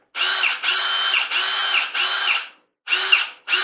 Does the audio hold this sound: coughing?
no